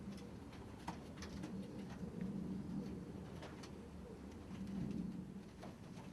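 Ice pigeons coo in a breeding loft, soft repeated low coos rising and falling under faint rustling and occasional sharp clicks from the birds.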